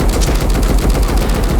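Rapid automatic gunfire in a multiplayer shooter video game, a loud, dense stream of close shots that runs without pause through the whole short stretch, with no talk over it.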